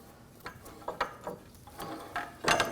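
A ratchet socket wrench clicks in short bursts while loosening a bolt on the rear suspension of a 2006-2009 Audi S4 4.2L V8 during brake work, close and fairly quiet, with faint metallic handling in between.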